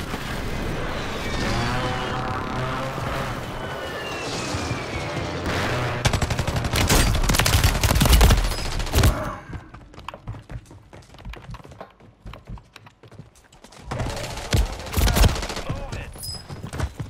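Cluster strike explosions in a video game thump and crackle in loud bursts, a heavy barrage followed by scattered blasts and a later cluster of impacts, with a voice speaking briefly amid the noise.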